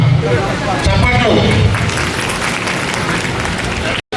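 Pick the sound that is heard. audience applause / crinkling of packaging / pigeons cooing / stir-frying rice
audience applause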